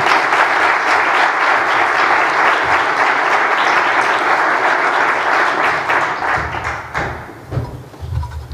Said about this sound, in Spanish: Recibimos con un aplauso fortísimo a Antonio Noblejas Sánchez Migallón, director general de EDEN